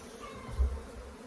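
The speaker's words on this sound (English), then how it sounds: "This thing is packed of bees." Honey bees in a packed hive, a low droning buzz swelling briefly up close.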